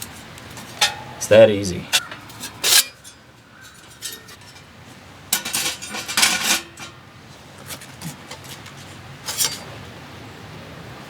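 A metal folding camping stove for ultralight backpacking is opened up, giving a few sharp metallic clinks and rattles of its panels and grate, with a person talking over and between the clatter.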